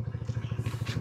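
A motorbike runs close by with a fast, even chugging beat at steady loudness, the engine pulsing rhythmically as it moves off, with faint background noise.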